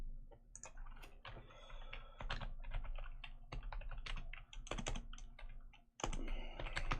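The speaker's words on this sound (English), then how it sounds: "I literally can't see what I'm typing" Rapid, steady typing on a computer keyboard, dense clicking keystrokes close by with a brief pause near the end, no talk.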